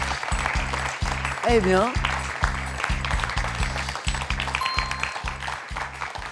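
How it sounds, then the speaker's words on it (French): A studio audience on a French quiz show claps in a rhythmic, evenly pulsed beat for a contestant. A host speaks briefly over the clapping, and a few musical tones ring out partway through. "on peut l'applaudir, Thomas, pour ce magnifique 4 à la suite"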